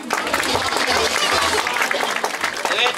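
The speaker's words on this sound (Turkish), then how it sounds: "Alkış!" Audience at a youth talent show clapping in a busy burst, with voices talking and calling out over the applause.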